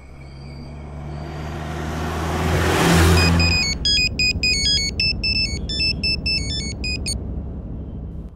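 Mobile phone ringtone rings out as a loud repeating electronic melody, following a swelling engine whoosh of a passing vehicle, with no talking during the ring.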